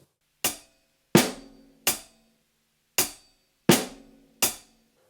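Sparse drum pattern in 7 played only on hi-hat and snare, six sharp separate strikes at uneven spacing, close and clear with ringing decay, no talk.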